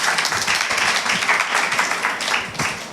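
Steady applause from a Sunday school retreat audience at Calvary Prayer Temple in Srikakulam, cheering four children who recited the Bible books, a continuous dense clatter of many hands held at even loudness throughout.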